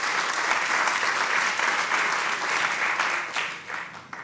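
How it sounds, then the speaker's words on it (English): Audience at an evening event giving a warm, sustained round of applause for the Alumni Association, steady dense clapping that tapers off near the end. "Let's give Mark, Jan, and the whole Alumni Association another round of applause"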